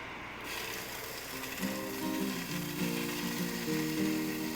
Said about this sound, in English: So this bacon I'm going to fry up pretty crisp.